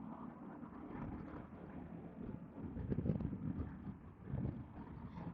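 Wind blowing around a microphone outdoors during motorcycle riding, a steady low rumbling buffet with gusts swelling louder near the middle and toward the end, no talking.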